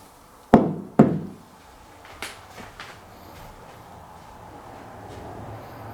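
Two loud sharp knocks close together, followed by a few fainter taps, in a quiet room of an old house during a ghost hunt.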